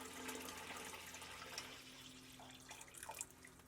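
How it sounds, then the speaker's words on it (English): Water pours from a tap into a canning pot beside jars of raspberry jam, a faint steady rushing splash with light gurgles throughout, no voices. "So I'm going to add some water, and then it'll have to come back up and to heat"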